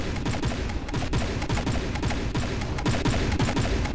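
Burst-fire cannon in From The Depths blasting at targets, a dense, continuous barrage of rapid overlapping shots with booming impacts, loud and sustained throughout.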